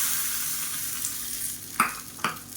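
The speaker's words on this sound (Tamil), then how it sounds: "இப்போ இதில் கடுகு, வரமிளகா, கருவேப்பிலை, பெருங்காயம் போட்டு தாளித்து கொட்டிக்கலாம்." Mustard seeds, dried red chillies, curry leaves and asafoetida sizzle in hot oil for a peanut chutney tempering: a steady broadband fry hiss with two sharp crackling bursts near the end, close and without voices.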